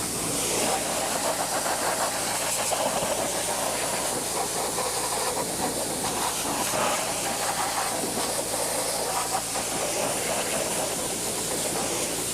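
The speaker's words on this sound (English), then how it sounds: "So we're done with this tire. And we're going to rinse them both off." Water sprays steadily onto BMW car tires while they are rinsed during detailing, a continuous close hiss with no break.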